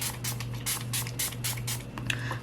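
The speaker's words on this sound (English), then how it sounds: "I'm going to give my face a little spritz with my Milani." Milani setting spray misted onto a face in a run of quick spritzes, about seven or eight short hissing bursts in a fairly even rhythm, close and soft, over a low steady hum.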